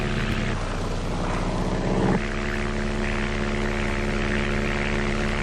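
Steady drone of two small propeller planes flying over rainforest, a loud continuous engine hum with layered tonal harmonics, shifting slightly in pitch partway through.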